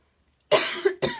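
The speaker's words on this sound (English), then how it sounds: "I get so excited, I just have to cough." Two sharp coughs close up, the first longer with a rough tail, the second a quick short burst, after a moment of silence.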